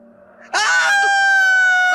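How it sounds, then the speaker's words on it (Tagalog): A person shrieks in fear amid an aswang horror story, letting out a sudden, loud, high-pitched scream that starts abruptly and holds steady for about a second and a half. "Bakit ka ba tumitili dyan?"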